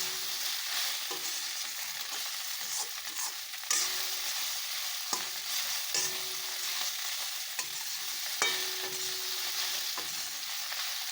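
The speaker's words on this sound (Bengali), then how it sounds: "এখন পাস্তাটাকে ভালো করে ভাজবো।" Boiled pasta with egg, sauce and cheese fries in a pan, a soft steady sizzle under repeated spatula clinks and scrapes as it is stirred, close but fairly quiet and with no talking.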